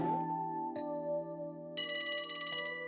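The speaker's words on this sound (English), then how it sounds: "Oh, that's a phone call." A communicator phone bell rings in the video game Trails From Zero, a steady electronic ringing tone that holds throughout and then brightens into a harsher, buzzier ring partway through, clear and alone without talk.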